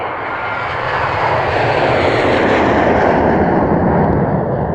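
Airplane engine of a flight roaring loud and close in a steady broadband rush that swells slightly and holds for the whole stretch, with no talking over it.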